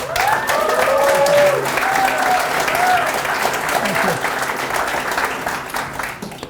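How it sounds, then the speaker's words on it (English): A conference audience breaks into a hearty round of applause, with cheers and whoops rising early and then a steady clapping that slowly thins toward the end. "a huge round of applause and thank you for coming"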